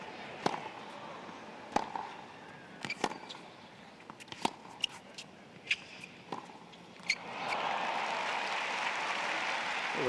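A crowd at the 2005 US Open semifinal between Andre Agassi and Robby Ginepri breaks into applause, first with scattered sharp claps and shouts, then swelling into steady clapping from many spectators across the stadium.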